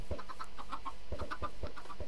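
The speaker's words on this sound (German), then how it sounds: "Hühner." Chickens in a video game cluck in quick repeated bursts, several birds overlapping at moderate distance in a short, busy flurry.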